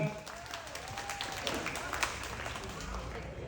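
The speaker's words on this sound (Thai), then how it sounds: "ใครคิดว่าแชมป์รุ่นนี้จะตกไปที่เจ้าไก่ทอง จากอุทัยธานี ขอเสียงปรบมือด้วยครับ" Crowd clapping at the results announcement of a black male water buffalo contest at a university field in Surin, Thailand, fairly faint and spread out, with voices over it.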